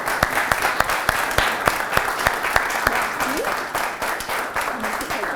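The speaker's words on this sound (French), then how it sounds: "Je vous demande de l'applaudir très très fort" A studio audience on a television talk show applauds loudly for an arriving guest, a dense burst of clapping with distinct sharp hand claps standing out in a regular beat and a voice heard faintly beneath the noise.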